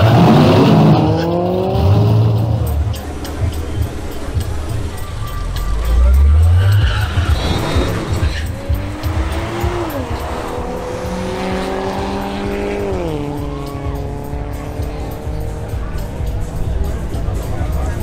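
A BMW M340i xDrive drag racing, engine revving and rising through gears with harmonic sweeps, loud and close, with tire noise and a passing surge as people talk over it.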